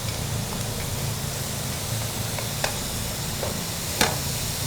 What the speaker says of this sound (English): we'll just let that saute up for a couple minutes until the onion gets a little soft